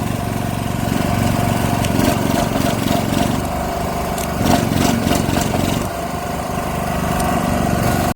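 A small generator engine runs close and loud under load, its revs wavering and surging unevenly in a buzzing, mower-like drone with brief dips and swells.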